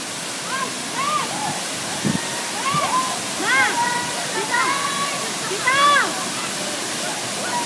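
Kabigan Falls roars as a steady broadband wash of falling water, loud and continuous, while voices and shouts rise faintly over the rushing noise.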